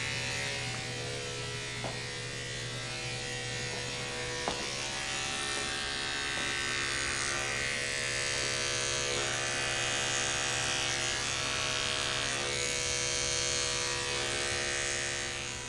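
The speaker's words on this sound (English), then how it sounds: "I like to use the number 10 blade. You can use any clipper blades you have at home" Electric pet clippers fitted with a number 10 blade run during an at-home grooming session, giving a continuous, even buzzing hum close by for the whole stretch, with no talking.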